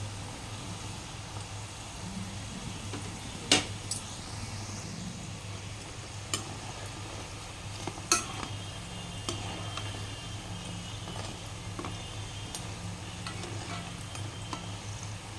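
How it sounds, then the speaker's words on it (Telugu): Mysore bondas deep-fry on a low flame, giving a faint, steady bubbling hiss with a few scattered clicks and ticks, quiet and unbroken, with no voices. "బోండాలు అవుతున్నాయి కాలుతున్నాయి ఇప్పుడు గోల్డెన్ కలర్కి వచ్చేదాకా కొంచెం కొంచెం స్లో సిమ్లో పెట్టాను"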